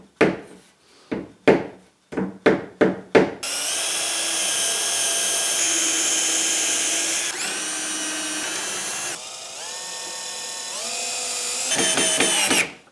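A power drill drives screws into a wooden workshop cart: several short, sharp bursts come first, then long sustained whines that shift pitch and stop, sounding close and loud.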